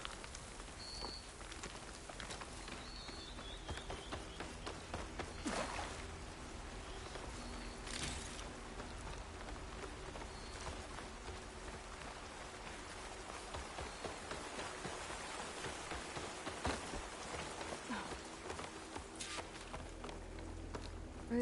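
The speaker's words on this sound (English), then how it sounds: "Rain's letting up." Rain pours steadily over the landscape in Horizon Forbidden West, a continuous hiss of drops striking surfaces, with scattered louder splats and occasional soft footsteps moving through the wet ground.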